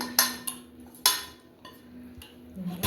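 A spoon stirs spices into boiled rice in a pot for fried rice, giving a few separate metallic clinks and scrapes against the pot, close but soft, with quiet pauses between strokes.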